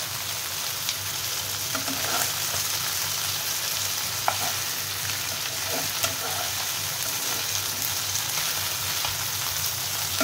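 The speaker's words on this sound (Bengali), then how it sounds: "পেঁয়াজ, কালো জিরে, কাঁচা লঙ্কা ভাজতে ভাজতে আমি কিন্তু এই টমেটোগুলোও দিয়ে রাখবো একটা দিক থেকে।" Onion, black cumin and green chilli fry in a pan with a steady, dense sizzle, close and continuous, with occasional faint stirring taps.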